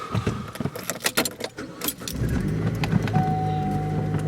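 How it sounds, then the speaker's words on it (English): Keys jingle briefly, then a car engine cranks and catches, settling into a steady, close idle rumble that continues to the end. "Car starts, another good sign."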